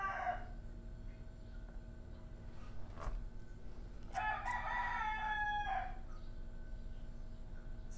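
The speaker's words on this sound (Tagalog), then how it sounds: "Nasa likod kasi ng bahay namin yan, guys. Yung manok na yan." A rooster crows from behind a house, one long crow standing out clearly over a quiet background, with a shorter call just before it.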